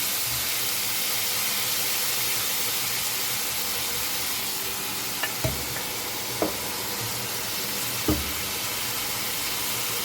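Baby corn sautéing in a pan for a chickpea salad, giving a steady, even sizzle and hiss with a few soft stirring knocks near the end and no talking.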